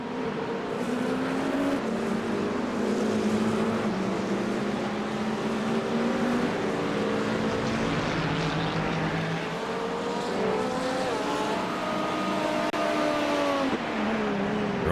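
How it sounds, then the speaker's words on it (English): Porsche race car engine at the 24 Hours of Daytona, a loud high-pitched whine that rises and falls as the car shifts and accelerates, with other engine tones layered in the background. "Liam Hall in the Rexy AO Racing themed Porsche"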